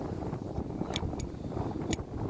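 Strong wind blows across a hilltop, a continuous low rumbling buffet against the microphone with a few brief higher gusts, moderately quiet and with no talk.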